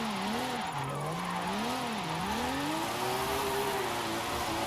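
A car drifting in Forza Horizon 5, a 90s model held at a steep slide angle, gives a continuous, loud tire squeal that wavers in pitch over a steady engine drone, sustained throughout with no talk.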